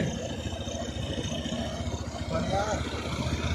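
Tractor ploughing a village field in Chhattisgarh, a low, steady engine rumble with rhythmic chugging under a person talking throughout.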